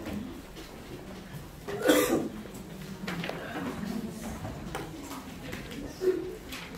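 A man gives a single sharp cough near the start, followed by quieter murmuring and a brief throat sound later on.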